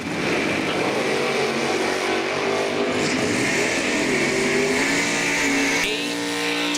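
A Pontiac and a 1969 Camaro drag race down the track at an evening event, engines roaring steadily at high revs as they pull away, loud and continuous with a rising whine near the end.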